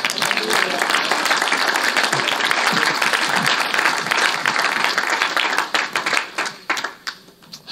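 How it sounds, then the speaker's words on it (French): A church congregation applauds loudly and steadily, a dense wash of clapping that thins after several seconds into scattered, fading claps. "Acclame-le encore."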